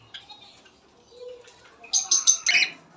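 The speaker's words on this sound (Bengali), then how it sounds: "নিচে একটা রুমের মধ্যে রাখা রয়েছে অনেকগুলো পকাটেল দেখতে পাচ্ছেন" Cockatiels at an exotic bird farm, held in a room below, give a burst of several close, bright chirps near the end after quieter scattered calls.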